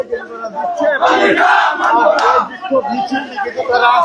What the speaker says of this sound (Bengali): একের পর এক স্লোগান দিয়ে যাচ্ছেন